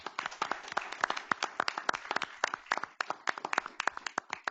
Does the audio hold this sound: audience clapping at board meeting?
yes